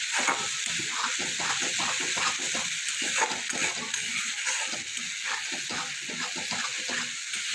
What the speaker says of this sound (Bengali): মশলাটা ভালো করে কষিয়ে নেব যতক্ষণ না তেল ছাড়া ততক্ষণ মশলাটা কষাতে হবে